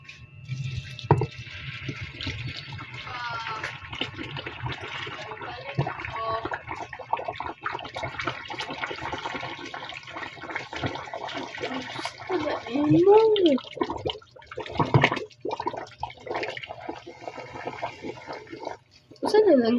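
Water poured into a clogged kitchen sink drain after a plug remover is used, with splashing and gurgling pours in bursts, some loud, under frequent talking.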